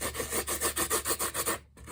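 Rhythmic rubbing on paper as dried salt is scrubbed off a watercolour painting, about a dozen quick, even back-and-forth strokes close up, then a brief pause.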